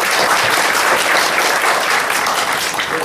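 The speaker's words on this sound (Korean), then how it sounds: "박수 한번 주세요." Audience applause at a televised panel discussion on youth unemployment as a panelist is introduced, dense steady clapping from a full room, loud and continuous throughout.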